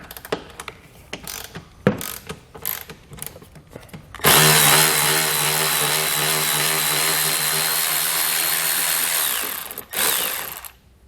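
Power tool whirring steadily for several seconds as it backs a 10mm bolt out of the front edge of a skid plate on a 2020 Jeep, preceded by scattered clicks and handling noises, loud and close.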